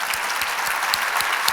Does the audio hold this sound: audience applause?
yes